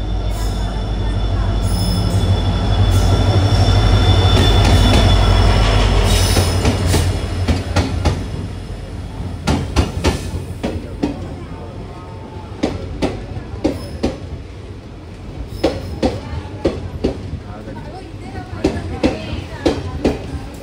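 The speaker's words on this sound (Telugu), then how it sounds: "వచ్చేసింది మన ట్రైన్" A locomotive-hauled train rolls into a station with a loud, steady rumble that gives way to squealing wheels and scattered clanks as it slows, with voices faintly underneath.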